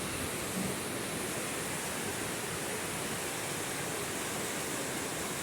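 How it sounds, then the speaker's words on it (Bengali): Rain falls over Dhaka as a steady, even hiss of heavy downpour, continuous and moderately loud with no voices or other distinct sounds. "দেখেন বৃষ্টি হইতেছে,"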